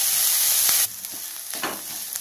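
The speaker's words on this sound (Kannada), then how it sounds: "ನೋಡಿ ಈಗ ಈರುಳ್ಳಿ ಫ್ರೈ ಆಗಿದೆ" Onions frying in a pan for a Karnataka-style okra (ladies finger) palya, a loud steady sizzle that drops abruptly partway through to a quieter crackle with a few scraping stirs, no voices.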